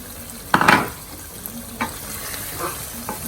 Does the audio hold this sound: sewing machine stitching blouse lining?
no